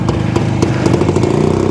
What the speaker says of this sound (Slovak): Nejaký dvojtaktný špeciál nám tu vrčí trošku do zvuku, do štúdia.